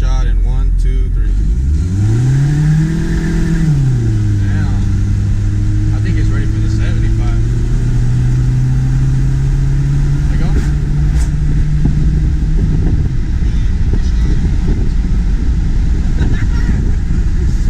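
A 175,000-mile Toyota Corolla with a catalytic converter accelerates hard on a 50-shot of nitrous, its engine note climbing, shifting, then holding a loud sustained drone close by, with people talking over it.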